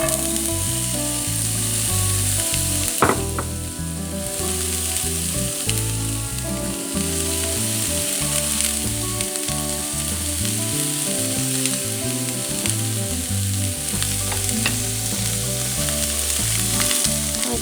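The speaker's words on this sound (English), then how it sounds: "So I'm going to go ahead and let these sizzle and stir" Onions sizzle steadily in hot olive oil in a pan, a loud continuous crackling fry with occasional stirring scrapes and clinks, no talking.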